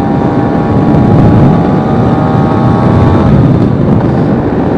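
A 200cc two-stroke Vespa P200e rat-mod scooter drones steadily while riding, its loud buzzing engine note holding an even pitch, mixed with heavy wind rush throughout.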